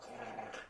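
A person vocally imitates a low growl, like a cross between a growl and a purr, voicing displeasure in a short, rough, rumbling sound under a second long, fairly quiet.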